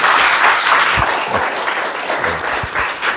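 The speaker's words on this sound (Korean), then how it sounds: "박수 한번 주세요" An audience at a cultural forum in Gwanghwamun applauds a violinist after an improvised passage, with steady, dense clapping that fills the room and runs continuously at full strength from start to finish.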